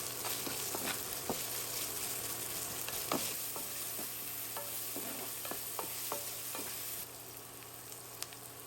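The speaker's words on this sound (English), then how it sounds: "Add the onion and garlic and cook for a few minutes." Onion and garlic cooking in oil in a pan, a soft, steady sizzle broken by frequent scraping stirs and light clicks of a spatula, quieter near the end.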